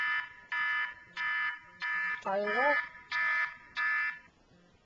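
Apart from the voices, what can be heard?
app alarm beeping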